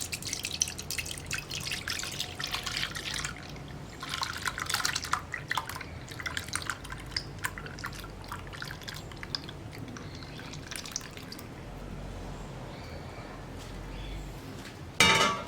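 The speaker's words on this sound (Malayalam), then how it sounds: "ഇപ്പോൾ നമുക്ക് ഈ ബൗളിലേക്ക് നമ്മൾ റെഡിയാക്കി വെച്ചിരിക്കുന്ന പുഡിങ്ങിൻ്റെ മിക്സ് ഒഴിക്കാം." Tender coconut pudding mix poured into a bowl, making close, irregular trickling and dripping that thins out and ends with a brief louder clatter.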